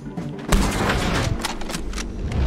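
Gunfire in Red Dead Redemption 2 during a shootout, a dense run of sharp shots with a heavy blast near the start, cracking repeatedly and loudly over a steady rumble.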